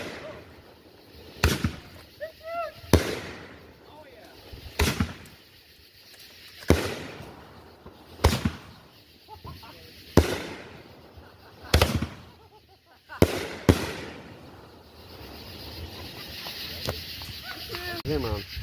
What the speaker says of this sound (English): This is the aftermath of the Mcdowell family firework fiesta